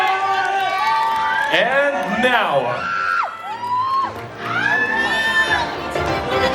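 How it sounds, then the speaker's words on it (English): Crowd cheering and whooping at the Mister Gay World Philippines 2024 finals as the second runner-up is announced, loud and continuous, with an announcer's voice speaking over the noise. "A round of applause, ladies and gentlemen."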